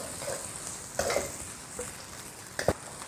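Bean paste, ginger, scallion, garlic, green and red peppers and fresh Sichuan peppercorns stir-fried in a wok: a soft steady sizzle with a few brief scraping clatters of the spatula, fairly quiet and close.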